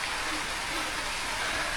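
Steady rain falls on a garden of crops, a constant broadband hiss of drops on surfaces at even loudness throughout, with no distinct voices over it.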